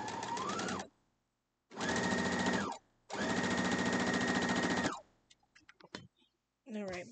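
A sewing machine stitches a quilt block seam in three loud, steady bursts separated by short pauses, followed by a few faint clicks.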